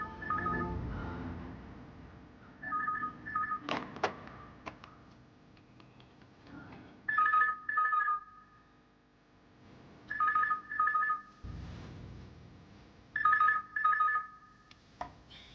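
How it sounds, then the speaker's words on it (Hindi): A telephone rings in repeated double bursts, separated by pauses, with some faint clatter and background noise between the rings. "Pick up the phone."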